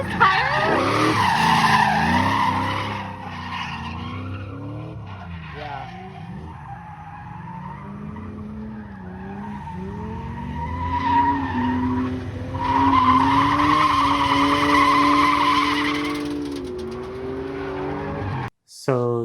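A car drifts on dry pavement, its tires squealing and skidding in long sustained screeches over a revving engine, loud and close, with a brief cut near the end.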